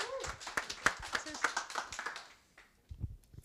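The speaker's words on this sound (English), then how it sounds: "Can we have one big round of applause and then take it away?" An audience breaks into a round of applause, many hands clapping in a dense patter that fades out after about two and a half seconds, followed by a few scattered taps, with a voice briefly heard at the start.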